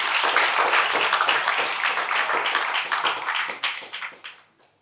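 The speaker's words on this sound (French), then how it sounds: "Je vous demande de nouveau d'applaudir." An audience at a municipal election campaign event in Morne-à-l'Eau claps, a dense burst of applause that thins out and fades to silence over a few seconds.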